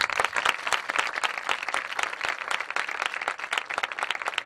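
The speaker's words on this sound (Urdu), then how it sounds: "آئیے خدا کے پاک روح کے لیے زور سے تالیاں بجائیں۔" A congregation at a church service claps loudly and steadily, dense sustained applause filling the room with no speech over it.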